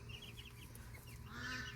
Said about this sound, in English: Oh, little chicken.